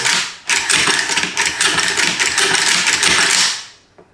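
The bolt and bolt carrier of a Zastava ZPAP M70 AK-pattern rifle rattle loudly up close in a rapid, clattering series of metallic clicks for about three seconds, then stop abruptly, followed by one faint knock.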